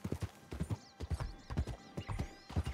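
Horse hooves clip-clopping in Red Dead Redemption 2, a steady run of close, loud footfalls over several strides, with a brief whinny mixed in.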